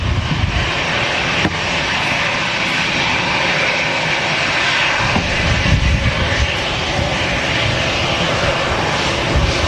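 A TUI Boeing 737 MAX bound for Sharm el-Sheikh takes off at Manchester Airport, its jet engines a loud, steady broadband roar that holds for the full stretch, close and unbroken.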